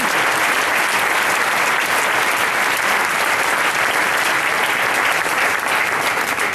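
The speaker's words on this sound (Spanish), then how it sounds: "Un aplauso para todos ellos y para los que me presentan." Audience at a Spanish national marketing awards ceremony applauding the honorees, loud sustained clapping that fills the whole stretch evenly without pause.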